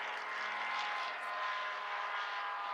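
A steady, droning ducted-fan engine on an Edgley Optica light aircraft, with a whirring, fan-like hum, continuous and moderately distant, with no voices.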